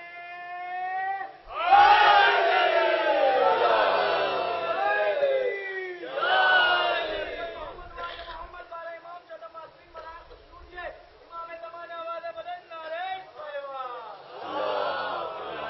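A crowd at a Jashn-e-Maulood-e-Kaba gathering in Lucknow, India, chants Ya Ali slogans in loud, repeated bursts, with a lead voice calling out between waves of massed voices.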